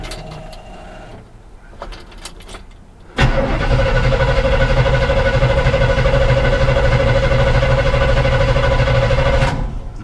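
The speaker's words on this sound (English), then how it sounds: "Cranking, that's good news." A GMC C20 truck's engine is cranked over, with some rattling and clicks first, then a loud steady starter-and-engine drone with a constant whine that holds for several seconds before stopping abruptly.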